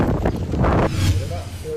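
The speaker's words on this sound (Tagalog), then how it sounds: "Nagvideo rin siya kung gaano kalakas ang hangin doon na halos tangayin na ang kanyang bagong tanim na puno ng saging" Strong gusting wind from Hurricane Milton in Florida buffets the microphone with loud, continuous rumbling roar, a young banana plant nearly blown over; a faint voice may sit under the wind.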